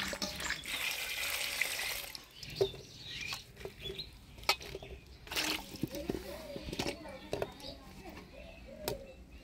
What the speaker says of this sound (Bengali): আলু ফুলকপিটা কাটে নিলাম, এবার পরিষ্কার করে ধুয়ে নেব।